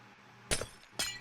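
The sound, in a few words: glass blocks being placed in Minecraft video game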